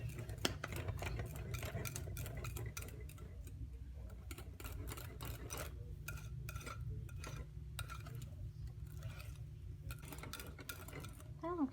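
A whisk clicks quickly and rhythmically against a bowl while mac sauce with kosher salt is mixed, faint rapid ticking over a low background hum.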